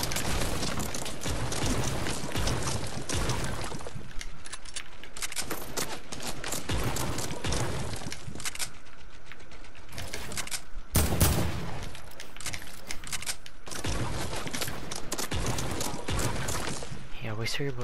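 Dense, sustained video-game gunfire rattling almost nonstop for around eighteen seconds: heavy automatic bursts and loud shots with only brief gaps, close and overwhelming throughout.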